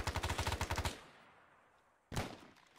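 Rapid automatic gunfire rattles in a fast burst of about ten shots in the video game Arma 3, falls silent with a fading tail, then another loud burst cuts in near the end; no voices.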